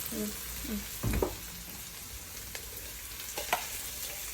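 Corned beef with potato frying in a pan, a steady close sizzle running throughout, with a few soft scrapes and knocks of a spoon as it is stirred.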